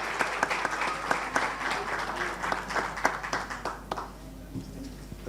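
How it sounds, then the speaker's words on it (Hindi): Applause for a singer at a church Christmas carol event: a crowd's dense, fairly faint clapping that thins out toward the end, leaving a few scattered claps. "जोरदार तालियां भाई शाहिद के लिए जी"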